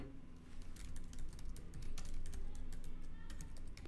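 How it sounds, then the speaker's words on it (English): Steady typing on a computer keyboard, rapid close key clicks over a constant low background hum, with no talk. "So let's type over here"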